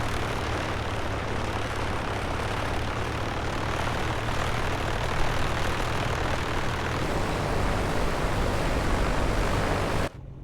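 A2A Comanche 250 piston engine in a flight simulator, taxiing with a steady, continuous propeller drone and low hum throughout, cutting off abruptly near the end.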